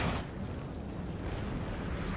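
Artillery shelling pounds a building in Napoleon: Total War, a rumbling, continuous roar of distant cannon impacts with no distinct separate blasts, heavy and low throughout.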